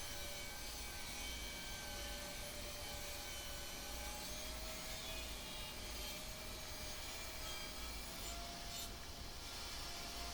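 A saw runs continuously while cutting mitered wooden pieces for a floating fireplace mantle, a steady dense whine with a faint shifting pitch throughout, no voices.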